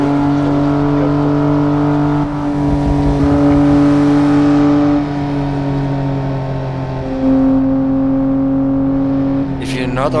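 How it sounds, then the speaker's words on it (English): Engine of a Mercedes racing car in the Assetto Corsa simulator, a steady loud drone with shifting tones as it overtakes on a Japanese cruise route, running continuously with a brief rise in pitch near the end. "The Mercedes is again overtaking, so careful."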